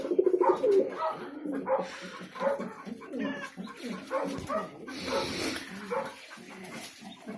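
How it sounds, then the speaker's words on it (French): White peacock pigeons in a backyard loft coo in soft, repeated low calls, with other birds and scattered background noise throughout. "Regardez, ils sont là mes pigeons pan blancs."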